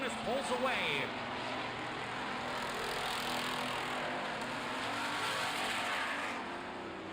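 Street stock race cars roar around an oval track during a heat race, with a continuous engine drone and a pass-by sweeping through near the start. An announcer talks over the racing noise throughout.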